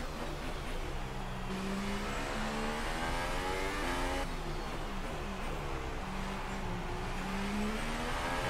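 A Toro Rosso Formula 1 car in the F1 2018 racing game, its engine droning loudly and continuously, rising in pitch through the gears and dropping sharply at each upshift.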